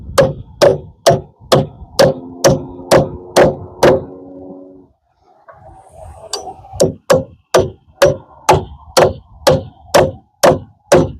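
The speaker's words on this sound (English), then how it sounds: "I will have to go across the back and down that side, nailing everything" A hammer drives nails into OSB sheathing on an 8x8 tiny-house side wall, landing sharp, evenly spaced blows in two runs with a short pause between them, each strike ringing briefly.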